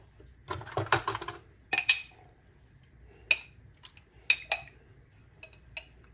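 A metal spoon clinks and scrapes against a jar while scooping pickle relish for a rotisserie chicken salad, a quick cluster of rattles followed by a few scattered taps, close and quiet.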